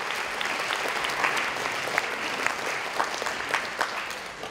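Steady applause from an audience honouring local club volunteers and athletes in Middelfart, a dense even clatter of many hands lasting throughout, with no voices heard.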